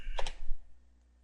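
A few quick computer keyboard keystrokes near the start, entering a search for a WordPress plugin, followed by near silence.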